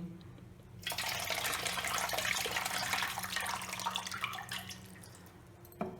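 Rice being rinsed in water in a home kitchen, a steady splashing and sloshing of water and grains that runs loud and continuous for several seconds before easing off, with no voices.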